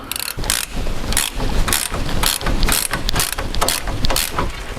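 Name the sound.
ratchet with extended socket undoing brake caliper bolt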